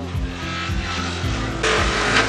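Electric-motor cassava grating machine (selep) shredding drained, dried cassava for slondok in Grabag, Magelang: a loud, steady mechanical drone with a strong low hum that surges brighter and harsher partway through, with no talk.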